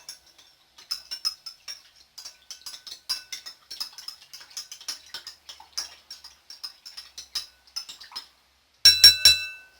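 A spoon clinks and taps against a glass container while stirring a detergent mixture for homemade bubble solution, making quick irregular light ticks that end in a louder, denser rattle.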